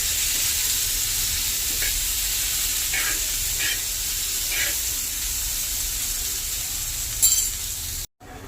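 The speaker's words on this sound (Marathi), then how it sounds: "आता आपण याच्यात थोडंसं तेल टाकूया जास्त नको छान ह्याला हलवूया छान ह्याला भाजायची आहे" Bitter gourd pieces stir-frying in a little oil in a pan, a continuous close hissing sizzle with occasional soft scrapes of a stirring spatula and a brief clink near the end before a sudden cut.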